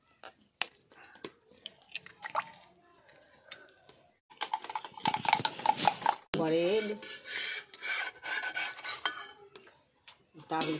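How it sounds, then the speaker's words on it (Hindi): A metal spoon scrapes and spreads beaten egg around slices of bread frying in a pan, giving soft intermittent scraping and tapping that grows busier and louder toward the end, with a sizzle underneath. "चम्मच से चारों तरफ छितार लेते हैं, पलट लेते हैं ब्रेड के।"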